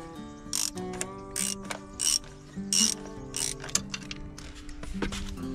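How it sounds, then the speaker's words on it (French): A ratchet wrench works loose the oil drain plug on an Audi Q2 30 TDI during an oil change, giving about eight bursts of close, rapid clicking with short pauses between them. "Et là tu dévisses."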